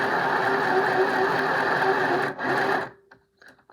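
A home sewing machine runs steadily and loudly for over two seconds, then stops, leaving brief faint handling sounds near the end.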